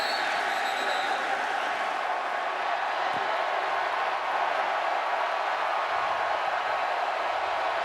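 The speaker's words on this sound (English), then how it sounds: "This is a loud crowd" A loud college football stadium crowd in Raleigh during an NC State home game against Louisville, a dense, constant roar of cheering and noise with no pauses, heard from within the stands.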